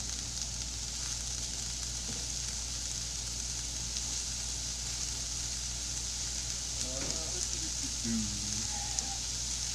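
Onions sizzling in a pan on a stove, a steady crackling hiss running throughout with a few brief faint voice-like sounds near the end.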